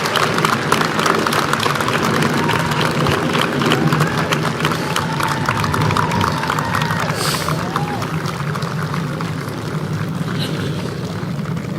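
Graduation audience applauding for scholarship recipients, a steady dense wash of clapping filling the hall at high level throughout, with murmurs mixed in.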